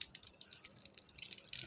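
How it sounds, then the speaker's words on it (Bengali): Mangoes being washed in water, heard as quiet, close drips and light splashes in a short, irregular patter. "ভালো করে ধুয়ে নিচ্ছি।"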